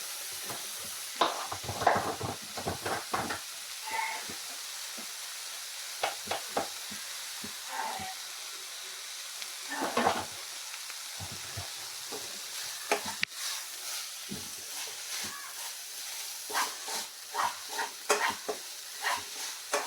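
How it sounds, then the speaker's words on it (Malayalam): Chopped banana flower stirred and fried in a pan for a Kerala thoran, with salt added: irregular scraping and clattering spoon strokes over a low, steady sizzle, close by, with no talking. "നമുക്ക് ചുണ്ടിട്ട് ഇളക്കി കൊടുത്തതിന് ശേഷം ഒരു ശകട ഉപ്പിട്ട് കൊടുക്കാവേ"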